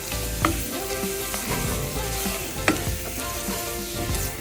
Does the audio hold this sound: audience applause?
no